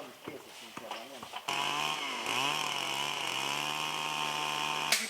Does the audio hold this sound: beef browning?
no